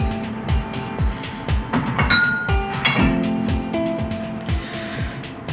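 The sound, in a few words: rinsing a glass with absinthe, glass clinking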